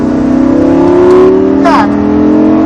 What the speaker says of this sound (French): vas-y, accélère, accélère.